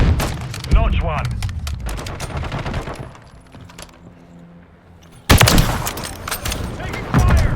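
Gunfire in Call of Duty Modern Warfare 3: loud bursts of rapid automatic shots, a lull of quieter in-game sounds, then another heavy barrage, with brief voice callouts mixed in.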